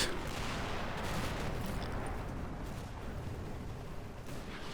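Rumbling barrage of mortar fire in the WWII Normandy wargame Combat Mission: Battle for Normandy, a dense continuous roll of low booms and crackle at steady loudness with no talk.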